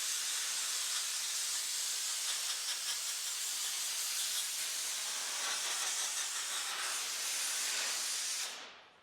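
Compressed air from a shop airline blasting into the fins of a car radiator, a loud continuous broadband hiss held steady for several seconds before cutting off abruptly.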